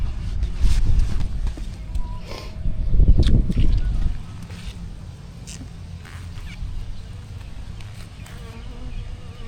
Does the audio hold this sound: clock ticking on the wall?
no